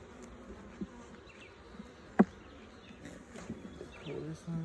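Italian honey bees buzz steadily around an open hive during a spring inspection, a low continuous drone with a few sharp handling knocks and a person talking faintly nearby.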